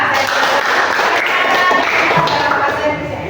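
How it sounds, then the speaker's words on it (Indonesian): Classroom of students clapping hands together on a teacher's cue, a dense steady patter of many hands close by that continues throughout. "Kita beri tepuk tangan dulu."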